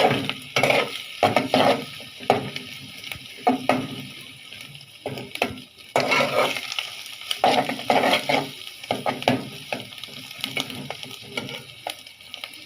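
Noodles are stirred and fried in a pan, giving an irregular run of sizzling bursts and scraping clatter from close by, with no voices.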